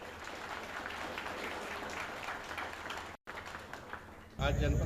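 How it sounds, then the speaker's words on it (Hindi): An audience at a district police meeting applauds, a faint steady patter of clapping that runs for several seconds before a brief cut and a louder burst of noise at the end. "पीछे वाले ले बजा रहे, ताली बजाइए।"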